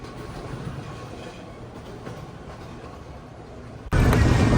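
A passenger train running on rails gives a steady, close rumble that grows abruptly louder and heavier near the end.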